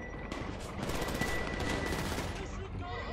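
Gunfire in GTA Online, a dense, steady stream of shots that runs without a break for the whole stretch, loud and close, mixed with other game noise.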